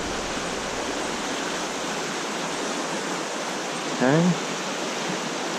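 Steady broadband rush of a small stream's flowing water in central Pennsylvania trout country, constant and close throughout, with one brief spoken word near the end.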